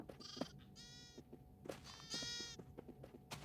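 Sheep in a video game bleat several times in short, wavering calls, some overlapping, with soft clicks and game sounds between them.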